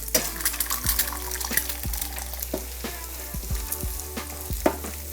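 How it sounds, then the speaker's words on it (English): Eggs fry in hot oil pushed to one side of a pan while pad see ew noodles are made. Bursts of crackling sizzle come with several dull low thumps and clatters from the pan, close by and with no speech. "With that, we're gonna crack in a couple of eggs."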